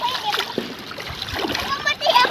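Water splashes in a cold, clear river at Umiray, Dingalan, with uneven, close sloshes under the talk of children and other people.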